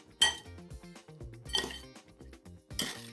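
Clinking of a utensil against a dish while eggs are broken and mixed for huevos rotos, three sharp bright scrapes and taps spaced about a second apart, close and clear.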